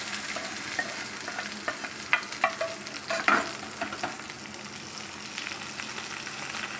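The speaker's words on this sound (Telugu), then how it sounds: "ఇప్పుడు పచ్చళ్ళు వేసేస్తున్నానండి పోపు." A tempering of turmeric and curry leaves sizzles in a pan as mint and tomato pachadi is added and stirred, giving soft frying hiss with scattered scraping and stirring clicks close by.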